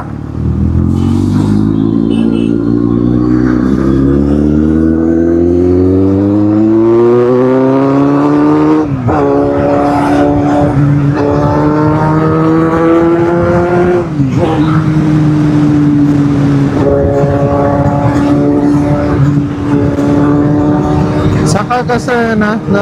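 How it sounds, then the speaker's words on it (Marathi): Busy road traffic heard from a moving vehicle, loud engines revving and rising in pitch as vehicles accelerate and pass, continuous and close throughout. "ट्रॅफिक आहे भावांनो"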